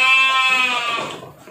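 A single sheep on a Banyuwangi livestock farm gives one long, close, clear bleat with a wavering, nasal tone that fades toward the end.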